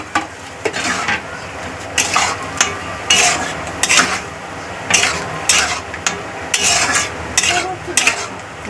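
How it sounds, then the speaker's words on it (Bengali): Paneer for home-style palak paneer is stirred and fried in a pan, with rhythmic spatula scrapes and clinks about once a second over a steady sizzle, heard close with no talk. "পনিরটা দিয়ে দিলাম, দিয়ে এবারে লাড়াচাড়া করে একটু লাগিয়ে নেব।"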